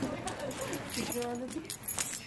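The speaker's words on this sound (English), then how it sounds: "I just hit my eyes with my keys" A bunch of keys jangles up close in a short, bright rattle, with people talking in the background.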